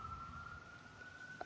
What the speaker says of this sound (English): That's an ambulance going.